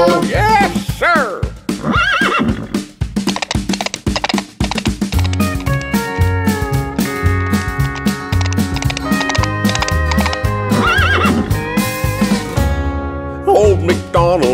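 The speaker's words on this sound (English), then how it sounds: "And on his farm he has a horse, E-I-E-I-O. With a nay-nay here and a nay-nay there" A horse neighs within a children's nursery-rhyme farm song, loud whinnies mixed with clip-clop hoofbeats and a bouncy musical backing throughout.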